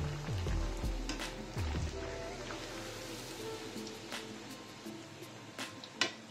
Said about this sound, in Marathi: आपण आता भटुरे तळून घेऊ. फुल फ्लेमवर तळून घ्यायचे.